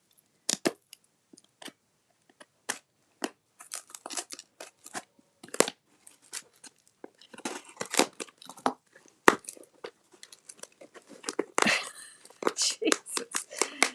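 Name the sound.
tape being torn off packaging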